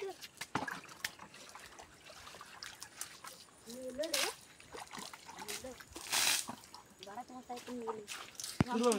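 Water splashes and sloshes in intermittent bursts as it is scooped and thrown, with people talking quietly in between.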